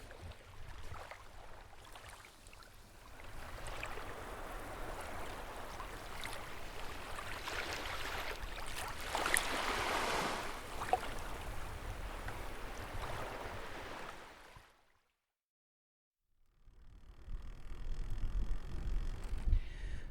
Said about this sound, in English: the soporific sounds of the beach and the waves lapping against the shore